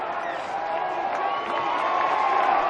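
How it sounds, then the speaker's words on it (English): Crowd at a rugby league grand final in Newcastle cheering and shouting in a sustained, swelling roar that grows slightly louder toward the end, distant and dense with no single voice standing out. "I can hear the crowd. The crowd tells you the story."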